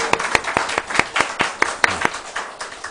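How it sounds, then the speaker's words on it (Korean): A church congregation claps in an even, rhythmic beat, about four claps a second. The crisp, close strikes continue steadily throughout. "우리 박수 한번 할까요?"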